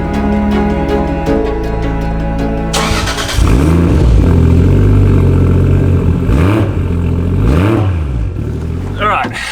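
A Toyota Chaser fitted with Supra parts is driven off, its engine revving hard in several distinct rising and falling pulls over a steady running tone, loud and close, with some talk at the start.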